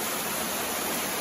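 A waterfall in Oregon heard from the top, a loud, dense, unbroken rushing roar that fills the whole stretch with no pauses.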